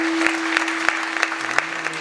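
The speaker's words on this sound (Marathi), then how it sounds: "एकदा जोरदार टाळ्या वाजव त्यांच्यासाठी" Audience applause at a kirtan gathering attended mostly by women; claps fall in a fairly regular rhythm over a steady sustained drone tone, with no talking.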